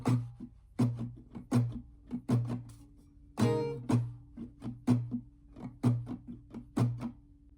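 Acoustic guitar strummed in a rhythmic pattern for a song, with a regular run of sharp, close strokes, some short and muted, sustaining a low chord, played alone.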